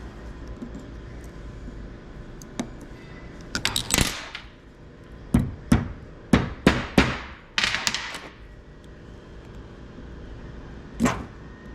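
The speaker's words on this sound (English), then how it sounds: "take a small peening hammer, and you fold these retaining" Sharp metallic taps of a small peening hammer folding metal retaining ears on a Yamaha YXZ 1000R UTV axle CV joint, in small clusters, a few single strikes then a quick run of blows, close by in a quiet room.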